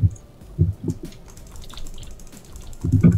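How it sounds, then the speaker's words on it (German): Computer keyboard typing coming through voice chat during a Minecraft-style SurvivalGames match, heard as scattered soft clicking bursts with a few louder low thumps, no talk in the clip. "man hört einfach nur eine Tastatur von dir"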